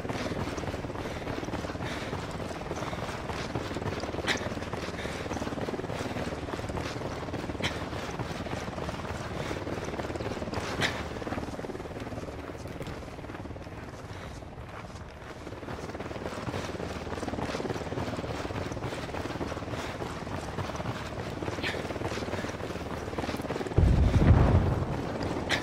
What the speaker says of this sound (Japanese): ユニタットのヘリだ。